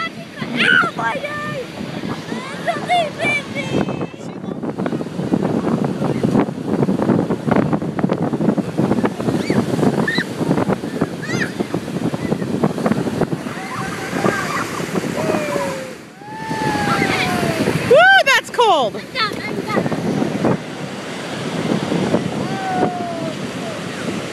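Steady rushing surf with wind buffeting the microphone at Santa Monica Pier beach, water washing in continuously while people talk and laugh nearby.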